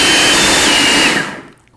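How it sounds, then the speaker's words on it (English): Food processor running on high as it blends a cottage cheese and pumpkin cheesecake ice cream mixture, a loud steady whir close by that holds for over a second and then winds down to a stop. "I'll put on the lid to my food processor and then blend this on high until it's smooth and creamy."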